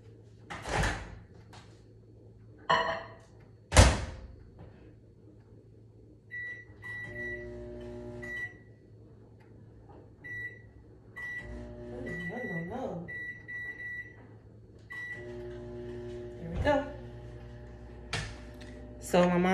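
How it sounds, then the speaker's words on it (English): A microwave oven in a home kitchen heats syrup: the door clunks shut, a few beeps sound, then a steady low hum runs with more door knocks and clatter nearby. "I'm gonna put this in the microwave for 35 seconds and let it get up hot"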